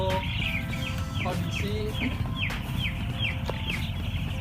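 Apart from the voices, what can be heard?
chickens clucking in closed-house broiler coop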